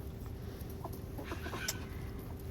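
Backyard hens clucking softly at a distance near a chicken manure pile, a few scattered short calls over a low steady background hum.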